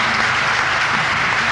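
Audience applause at a Hindi poetry gathering (kavi sammelan), a dense, steady wash of clapping from a large crowd, loud and continuous throughout with no voices over it.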